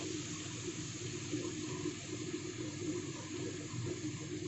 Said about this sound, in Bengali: এখন আমি এখানে সামান্য একটু জল দিয়ে দিলাম, 2 চামচ মতো